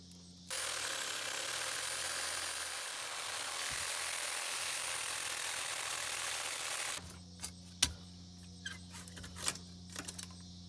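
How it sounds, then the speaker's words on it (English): A Sawzall reciprocating saw cuts through an electric motor casing in a loud continuous buzzing run of about six seconds, then stops, leaving scattered clanks and knocks. "We're going to connect to this casing with the sawzall to get this off of here."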